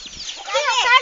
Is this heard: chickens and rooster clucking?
yes